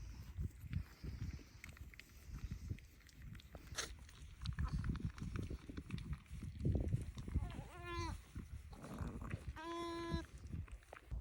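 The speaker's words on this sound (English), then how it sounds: "So yeah, so these are Bambi's lambs." Newborn lambs and a ewe in a lambing shed: two clear bleats stand out near the end over steady low rustling and movement in the straw.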